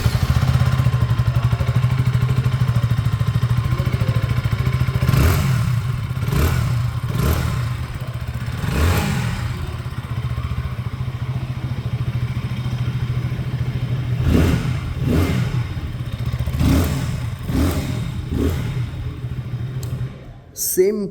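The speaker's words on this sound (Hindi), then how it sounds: "तो आइए सुन लेते हैं अभी इसकी एग्जॉस्ट नोट।" A 2026 KTM Duke 160 motorcycle with an underbelly exhaust idles with a low steady thrum, broken by several sharp throttle blips and revs that rise and fall, ending in a brief clatter.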